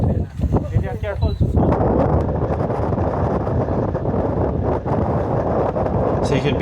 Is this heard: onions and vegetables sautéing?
no